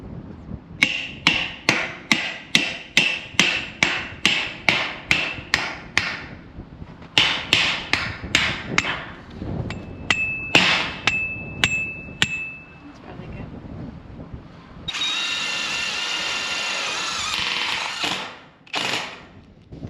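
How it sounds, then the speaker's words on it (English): Tech screws driven by a power driver through metal panels into pipes for a giant raised garden bed, a run of rapid, loud clattering bursts, then pauses and scattered ticks, ending with a sustained whirring drive. "we're gonna screw these panels into these pipes at about every 4 foot"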